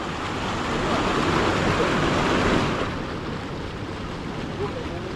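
Steady broadband rushing of a strong river current, loud and continuous, easing slightly in level partway through.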